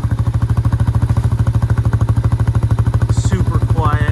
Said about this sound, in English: Just listen to how nice that thing is idling now.